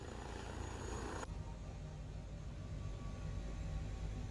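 Helicopter in Microsoft Flight Simulator, a steady droning rotor and engine hum at low level with a sudden shift in tone early on, then continuous whirring noise.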